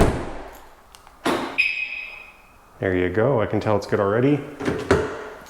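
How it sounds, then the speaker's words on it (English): An Audi A4 B8 car door shuts with a solid thud after a door lock actuator replacement, followed by a short electronic chirp, then someone speaks briefly nearby. "I'll shut the door."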